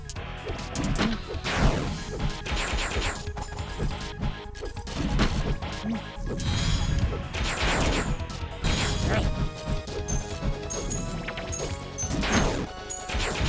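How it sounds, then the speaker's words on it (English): Busy audio from a Vampire Survivors-style game with a continuous rattly, scraping effect like two small magnets grinding together, layered over steady music and clattering hits. "this just sounds like those 2 little magnets you had as a kid rubbing together all the time"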